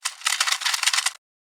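A crinkling Ableton stock paper bag sample is played reversed as a snare lead-in: about a second of dense, bright rustling that swells and ends abruptly, followed by silence.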